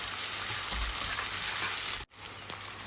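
Sliced onions sauté in a hot pan for chicken kothu parotta, giving a steady, close sizzling hiss with small crackles. A brief dropout breaks it near the end before the frying noise resumes.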